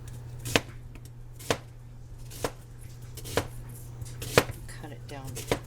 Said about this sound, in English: So cut your onion in half.